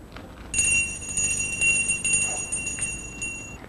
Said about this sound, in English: The detective finally rings the doorbell.